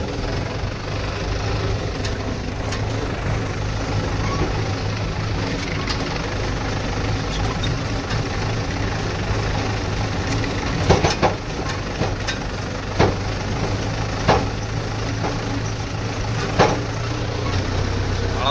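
Tractors and a JCB run on a farm in a continuous heavy, low engine rumble, close by and steady, with a few louder knocks and clanks toward the end.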